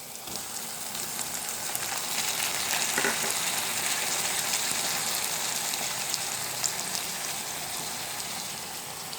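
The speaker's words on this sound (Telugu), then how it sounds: "చక్కగా ఆయిల్లో మగ్గనిద్దాం. టమాటా ముక్కలు యాడ్ చేసుకున్నాం" Tomato pieces and broad beans sizzling in oil in a pan for a tomato curry, a steady soft crackling fry with occasional stirring scrapes, no voices over it.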